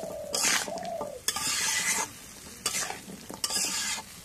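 A vegetable curry stirred in a pan over sizzling heat: four loud scraping bursts of the spoon against the metal, with short gaps between them, close by and with no voices.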